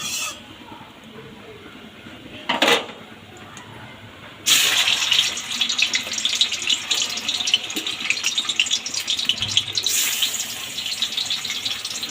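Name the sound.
fish frying in hot oil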